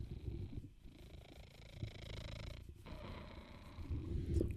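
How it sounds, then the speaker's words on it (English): A house cat purring close up: a low, rumbling, continuous purr that rises and falls with each breath, soft and steady, with brief pauses between breaths and no talking. "Wonder if you can hear him purring."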